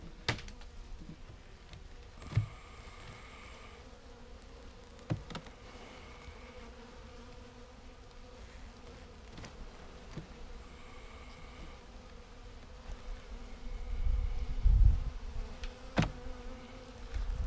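Honey bees from a weak overwintered colony hum faintly and steadily at a quiet distance, with a few soft knocks and a brief low rumble near the end.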